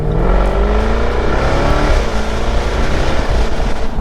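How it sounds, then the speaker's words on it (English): A Jaguar F-Type R accelerating hard on a quiet road, a loud, close engine roar climbing in pitch through the gears, heard from inside the car and with no talking over it. "that incredible acceleration that gets you back, glued to your seat"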